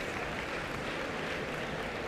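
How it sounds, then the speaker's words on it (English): Applause from the audience at an athletics banquet, a faint, even patter of many hands clapping at a distance, unbroken for about two seconds. "Give these guys a round of applause, please."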